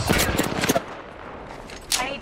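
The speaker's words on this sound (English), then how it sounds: "Taking fire." Rapid automatic gunfire from Apex Legends gameplay crackles in short close bursts, fading briefly before another burst at the end, with game voices under the shots.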